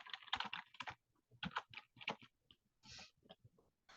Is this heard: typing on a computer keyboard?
yes